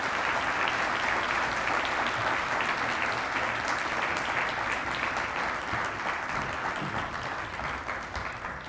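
Sustained, dense audience applause welcoming a law professor to the stage at an evening lecture on the Voting Rights Act, steady and loud throughout with no talk over it.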